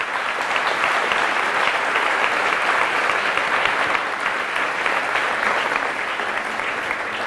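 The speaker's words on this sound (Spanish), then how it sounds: "Fuertes aplausos al Rey de Reyes" A church congregation claps steadily through a priest's sermon, a dense, even wash of applause lasting about seven seconds with no speech over it.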